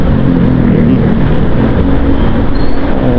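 A small, medium-size motorcycle being ridden on the road in the Philippines, with a continuous broadband engine and wind roar close to the rider, loud and steady with no pauses.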